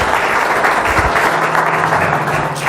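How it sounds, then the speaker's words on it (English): Conference audience applauding a speaker at a business talk, a loud, sustained spatter of many hands clapping at once, steady from start to finish. "So just a round of applause for Mark Organ"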